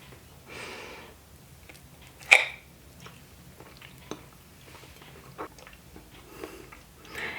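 Someone bites into a gluten-free pumpkin cheesecake with a gingersnap crust: one sharp, close bite, followed by soft, scattered chewing and breathing noises.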